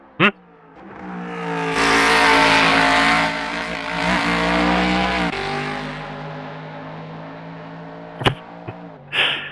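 A race car engine in a video game, a GT3 car, revs loudly and roars at high pitch, easing off midway, with brief voices and clicks near the end.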